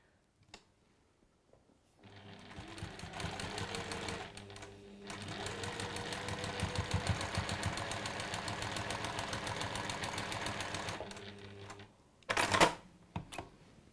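Sewing machine joining two fabric quilt squares, running in one continuous rapid mechanical whir for about nine seconds after a few clicks, close and steady, then stopping before a brief burst of handling noise.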